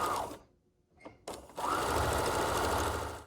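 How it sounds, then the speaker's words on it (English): Sewing machine running along the long side of a fabric strap, a steady whirring stitch that stops briefly and restarts, close and clear, with no talking. "So you're going to go ahead and sew the long side of the fabric piece using a 1/4 inch seam allowance."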